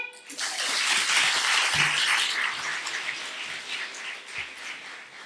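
After a dramatic monologue performance at a Pune competition prize ceremony, the audience claps loudly, the sound rising quickly into a dense, busy wash that holds steady and then tapers slightly toward the end.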